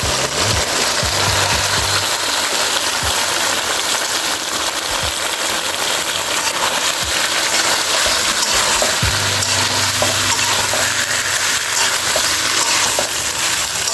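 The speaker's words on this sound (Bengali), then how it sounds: "এখন আমি সেদ্ধ করে রাখা কাঁঠালগুলো দিয়ে দিব" Boiled raw jackfruit stirred into spiced potatoes frying in a pan, making a steady loud sizzle and frying hiss throughout with occasional scraping, close and continuous.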